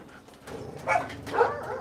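Puppies at a South Korean dog meat farm giving short whimpers and soft yips, two brief high cries over a faint background, close by.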